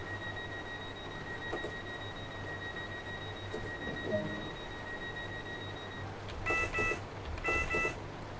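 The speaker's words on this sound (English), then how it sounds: "I should already be doing the guard buzzer as well, so let's do that." Guard buzzer signals sound in the cab of a Class 484 train in Train Sim World 2, a pair of short electronic buzzes followed by two more, over a steady cab hum and faint background tones.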